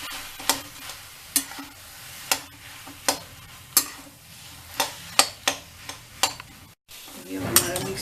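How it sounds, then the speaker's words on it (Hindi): Spoon stirring a mashed potato mixture for stuffed capsicum, a dozen or so sharp scrapes and taps against the bowl at an uneven rhythm, close and fairly loud, with no talking. "आलू मैश किए हुए जो, इसको अच्छे से मिक्स करेंगे।"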